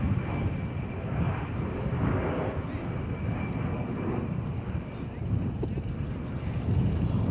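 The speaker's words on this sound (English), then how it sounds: "Watch now as Major Wilton pulls the A-10 straight into the vertical, demonstrating the Warthog's power and maneuverability in all attitudes of flight." A-10 Thunderbolt II Warthog jet at a naval air station air show pulls into a vertical climb, its engine roar steady, broad and loud throughout without a break, with faint crowd or announcer sounds beneath.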